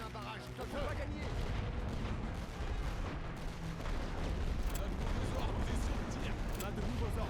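An artillery barrage in a First World War strategy game, Forward! The Great War, heard as a dense continuous rumble of distant cannon fire with scattered booms, while a voice gives orders over it.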